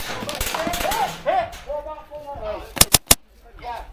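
An airsoft gun fires three sharp, close cracks in quick succession during an outdoor airsoft game, following stretches of people talking and a few fainter snaps earlier.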